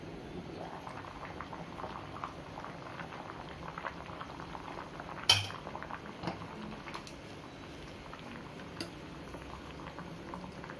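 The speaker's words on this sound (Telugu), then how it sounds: "స్వీట్ కార్న్ వేసేసుకొని ఒక 5 to 10 మినిట్స్ బాయిల్ చేసేసుకుందాం." Sweet corn kernels boil in a pot of water, a steady low bubbling patter for several seconds with one sharper knock near the middle.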